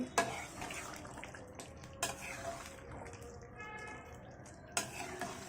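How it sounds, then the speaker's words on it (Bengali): Radhuni spice powder being stirred into beef kala bhuna in a pot, soft scraping and a few sharp clinks of a spoon against the metal, low and close with no talking. "রাঁধুনির গুঁড়োটা। মিশিয়ে দিচ্ছি।"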